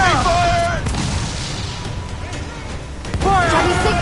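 Ship cannons in Assassin's Creed IV Black Flag booming in a naval battle, loud blasts at the start and again near the end with rumbling between, voices shouting over them.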